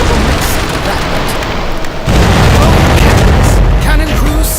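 Ship cannons fire in the naval battle game Commander: Conquest of the Americas, a heavy broadband roar swelling to a loud, sustained rumble of several overlapping blasts midway through, with no clear talk.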